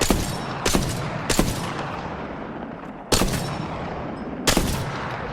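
Longbow sniper rifle firing in Apex Legends, four loud, sharp single shots spaced a second or more apart, each followed by a rolling echo.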